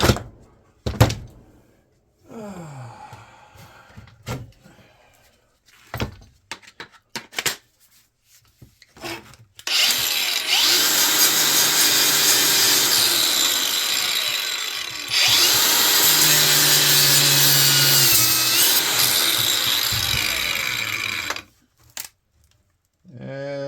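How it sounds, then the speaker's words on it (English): An angle grinder screams through old radio scrap in two sustained loud bursts, each about six seconds long, after a stretch of clattering and handling of metal parts. "There's the old grinder. Right in my face."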